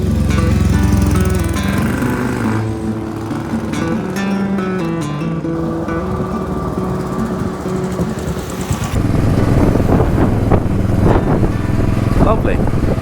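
Royal Enfield Bullet 500 motorcycle riding along an autumn country road in Kilkenny, Ireland, its steady loud engine drone continuous throughout, with a harsher, louder stretch toward the end.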